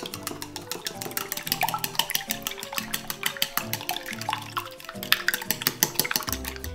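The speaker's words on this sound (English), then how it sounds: "And then just give it a whisk." Salted Clarence Court eggs being whisked in a bowl, a rapid, steady clicking and rattling that runs throughout over background music.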